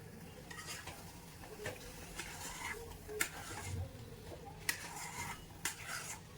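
A spatula stirs a thick lau poda pitha mixture of bottle gourd in a pan, faint scraping and soft sizzling with a few light metallic taps, quiet and close.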